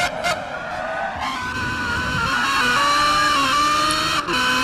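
A Subaru BRZ racing car engine in Gran Turismo 6 at Motegi screams loudly, its pitch climbing through the revs with quick drops at each gear change, close and continuous.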